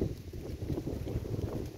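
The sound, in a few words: wind blowing over a farm field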